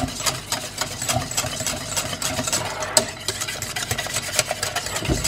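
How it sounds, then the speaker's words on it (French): Chickpea batter for panisse being stirred in a pot on the stove, producing a steady run of scraping, clicking strokes with a low machine hum in the background. "je vais remettre sur le feu tout en tournant pendant une dizaine de minutes pour que ça épaississe un peu"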